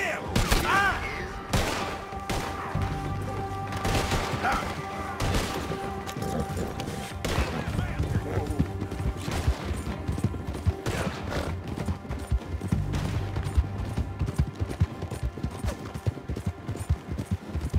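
Gunfire in Red Dead Redemption 2 rings out as a dense, irregular volley of shots, some close and sharp, with horse hooves clopping and occasional whinnies in a chaotic frontier shootout, voices shouting now and then.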